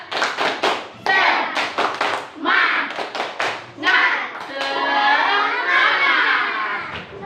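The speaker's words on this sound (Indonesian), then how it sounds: "Ayo kita tepuk semangat dulu. Tepuk semangat." A classroom group performs the tepuk semangat clapping chant, sharp rhythmic hand claps in quick patterns alternating with children's chanting voices, close and lively.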